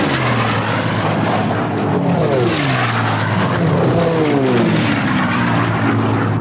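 Racing propeller aircraft at the Reno Air Race roar low overhead in a steady, loud engine drone, with the pitch sweeping down as they pass, and no talking.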